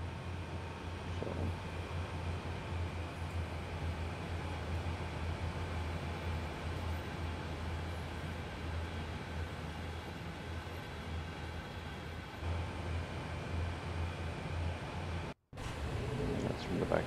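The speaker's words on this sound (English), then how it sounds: "That's from the back of the train." A train in a train simulator rumbles steadily from the rear of the consist, a constant low drone with broadband noise, unchanging for a long stretch before a brief dropout near the end.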